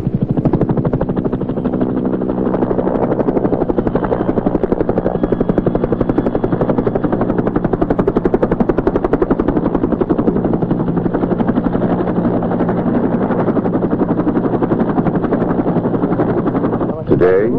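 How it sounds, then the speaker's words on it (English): A helicopter's rotor thumps in a rapid, steady beat throughout, loud and close, with a droning engine underneath. "Today, the sound of a helicopter usually means one thing."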